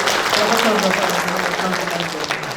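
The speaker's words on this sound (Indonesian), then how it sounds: "Sekali lagi kita beri tepuk tangan yang meriah untuk" An audience at a national alumni association working meeting in Kendari applauds after a national address, a dense burst of clapping with a voice audible over it.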